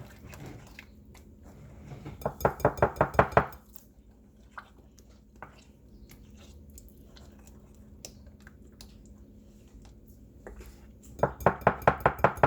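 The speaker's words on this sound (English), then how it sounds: "I'm going to mix, mix, mix" A spoon scrapes and clinks against a bowl while chocolate ganache is mixed, in two quick rhythmic bursts of close tapping with quiet handling between them.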